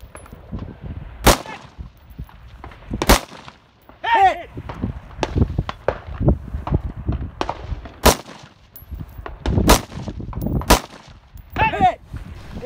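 Rifle shots crack at a black rifle match, aimed at steel targets 300 to 400 yards away, with several sharp reports spaced a second or two apart and faint distant metallic rings following some of them.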